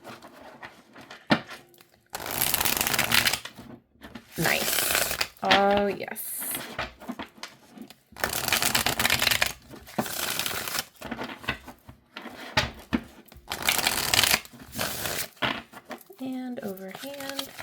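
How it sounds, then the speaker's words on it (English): A deck of tarot cards is shuffled in several loud riffling bursts with pauses between them, and a person speaks briefly in between. "let's see how it shuffles here"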